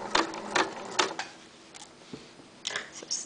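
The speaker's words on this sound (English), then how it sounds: "Get that presser foot down. And just stitch over that Velcro." Sewing machine stitching across a strip of Velcro with the presser foot down, giving several short bursts of needle chatter separated by pauses, fairly close and alone.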